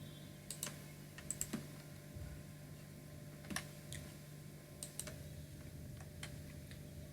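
Keys click on a computer keyboard in small bursts of quick taps separated by pauses, faint and close against a low steady hum, with no speech.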